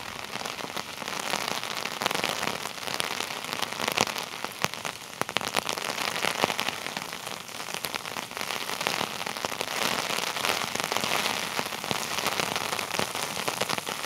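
Heavy rain pours steadily onto a city street during a windy rainstorm in Norwich, Connecticut, a dense, continuous hiss and patter close by with no pauses and no voices.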